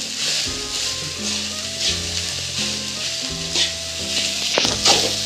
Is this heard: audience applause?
no